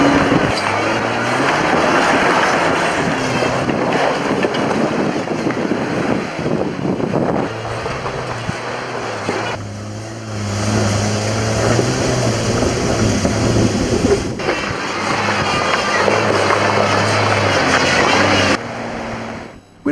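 80 series four-wheel drive in low range climbing a steep, slippery rocky slope: a loud, continuous engine drone that rises and falls under heavy wind buffeting against the microphone, with no break throughout.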